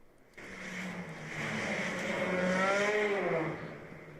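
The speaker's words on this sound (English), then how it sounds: "you can hear those engines rev up as their tires break loose" Race car engines rev hard as tires break loose at Nelson Ledges during a ChampCar Endurance Series enduro, a rising engine note building steadily and swelling loudest midway before easing, with no talk.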